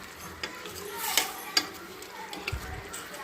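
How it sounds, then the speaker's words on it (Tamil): Spoon stirring mushroom coconut kurma in a pan, soft scraping and light sizzling with a few sharp taps against the pan, quiet and close. "நல்லா கிளறி ஊற்றிக்கலாம்."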